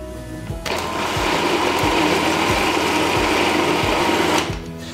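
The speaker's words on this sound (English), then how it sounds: "You just want to give that a quick whiz in the food processor until it all comes together" A food processor whizzes a quiche filling of cream, milk and Comté, giving a loud, steady motor whir with a rhythmic low thumping that runs for about four seconds and then cuts off.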